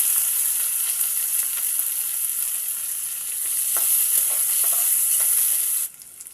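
Chopped onion and chili fry in hot oil with a loud, continuous hiss and sizzle close up, a few faint stirring scrapes underneath, before the sound suddenly drops away.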